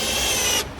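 A power drill drives a screw into a wall to mount a floating shelf, a brief loud whirring burst under a second long that cuts off abruptly at the end.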